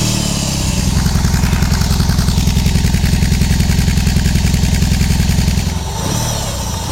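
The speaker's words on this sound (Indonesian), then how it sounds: "Tapi kalau kalian masih penasaran, pengen dengan suara mesin boxernya" A BMW R18 motorcycle's boxer engine idles close by with a loud, steady, low pulsing throb that dips and shifts briefly near the end.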